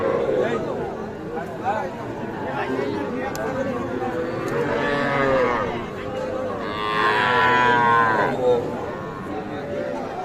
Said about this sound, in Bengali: এটাও কিন্তু দেশাল জাতের সার বাছুর